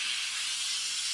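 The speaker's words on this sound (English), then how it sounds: "I can even do the duvets and steam clean them" Kärcher SC4 steam cleaner releasing steam while cleaning bedding, a continuous bright hiss, steady and close, with no other sounds.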